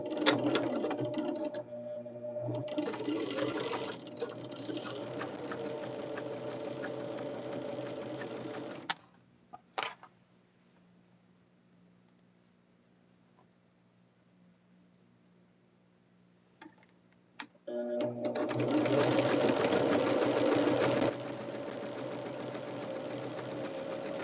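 A sewing machine stitches quilt block pieces together in two long steady runs of rapid mechanical whirring, separated by a quiet pause with only faint low hum, then starting up again loudly.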